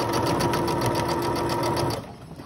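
A sewing machine stitches elastic onto a skirt, running in a fast, steady close whir for about two seconds before stopping abruptly, with no talking.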